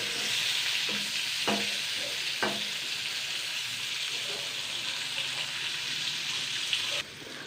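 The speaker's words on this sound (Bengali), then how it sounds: "এবার চিনিটা দিয়ে ভেজে নেবো" Eggplant frying in oil with sugar for a chorchori with spring onion, cauliflower and potato: a soft, continuous sizzle close by, broken by a few faint clinks of a spatula.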